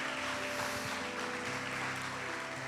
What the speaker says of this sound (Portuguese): A igreja pode dar uma salva de palmas para o Senhor nessa manhã